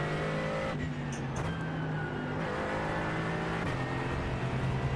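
Porsche race car engine in the sim racing game iRacing, a steady loud engine drone with pitch shifts as gears change and other cars blend in, with no talking.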